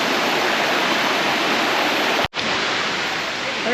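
Steady, loud rushing of a river flowing past a campsite at Kalumpang, close and continuous, with a brief cut in the middle before the broadband roar resumes.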